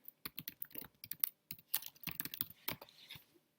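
Keyboard typing on a computer, a run of quick irregular key clicks in bursts, close and clear with no talking.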